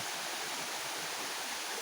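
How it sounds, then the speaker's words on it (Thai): A natural mountain waterfall pours down over rocks, giving a steady, even rush of broadband water noise that stays constant throughout, fairly quiet and distant with no voices. "น้ำตก"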